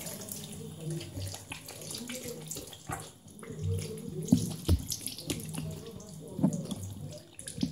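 Tap water runs steadily into a sink while hands are washed, with splashes and brief drips under the flow at close range.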